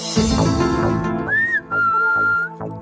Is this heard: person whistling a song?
yes